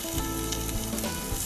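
Duck meat pan-frying in a hot pan gives a loud, continuous sizzle with small crackling spikes throughout, and no one speaks over it.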